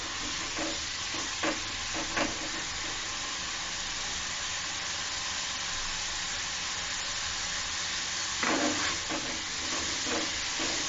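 Eggs sautéing with tomato masala in hot oil for a Bengali egg bhuna, a steady loud sizzle throughout with occasional scraping strokes of a spatula stirring the pan.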